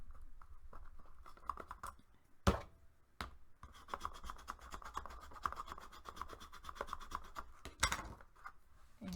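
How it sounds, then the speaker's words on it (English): A tool rubs back and forth over the side of a craft box in quick, soft scraping strokes, with a few louder knocks of the box being moved. The burnishing is faint and close, and no one speaks. "Go ahead and lay this box on its side and give it a good burnishing."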